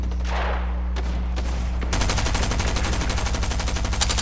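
Gunfire in the video game Fortnite, a few separate shots and then a dense, loud, rapid automatic burst that keeps going, heard alone with no talk.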